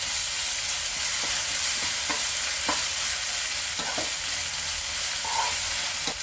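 Ginger garlic paste fries in a pan, a continuous close sizzle with a few sharp clicks and scrapes as a spoon stirs it, and no voices.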